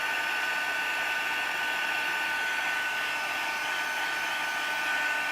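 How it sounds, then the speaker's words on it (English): A heat embossing tool blows a steady, continuous stream of hot air onto vinyl, a constant close whirring hiss with a high tonal whine that stays level throughout, with no voices. "When have you seen anybody heat emboss on vinyl?"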